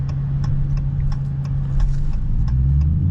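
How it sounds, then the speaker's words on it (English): A Dodge Challenger R/T's 5.7-litre Hemi V8 hums at a steady low drone from inside the car, with faint regular ticking clicks over it. "Just listen to it. So much torque. These Hemis have so much torque"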